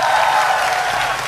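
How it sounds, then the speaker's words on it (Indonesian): Dense, continuous applause from a crowd at an Indonesian political gathering, a brief loud burst of clapping with crowd noise mixed in. "Tepuk tangan buat Mas Anies Baswedan."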